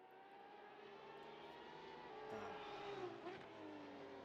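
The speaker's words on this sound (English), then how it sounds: "You can hear the cars screaming around in the audio, amazingly, but we can't get a picture." Race cars in a racing video game, a Ford Focus Supercup round at the Korea GP circuit, roar and whine continuously, engine tones rising and sweeping as several cars pass, moderately loud with no talking.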